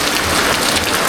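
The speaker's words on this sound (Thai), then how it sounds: "มื้อนี้ก็ฝนตกลัดทางเลย" Steady rain falls hard and close, a dense even hiss of drops on surfaces with no pauses and no voices.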